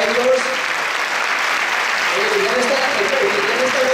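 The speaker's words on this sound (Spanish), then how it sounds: "Un aplauso para ellos." Loud, sustained applause from a crowd at a golden wedding anniversary celebration fills the whole stretch, with a voice talking over the clapping.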